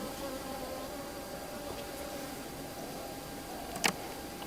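Honey bees buzzing around a hive on a bee farm in Assam, a steady faint hum that holds throughout with one brief louder close pass near the end.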